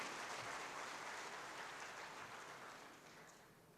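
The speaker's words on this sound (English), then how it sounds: "Can we have a round of applause for both the gentlemen for wonderful presentation?" Applause from a conference audience for two presenters at a quality convention, a quiet, even patter of many hands that slowly fades toward the end.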